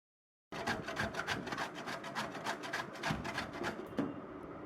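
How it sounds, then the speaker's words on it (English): Dried coconut grated by hand for a fennel, carom and sesame digestive mix, giving a steady run of close, rhythmic rasping strokes with no talking. "We will break the dried coconut and grate a 1/4 cup from it."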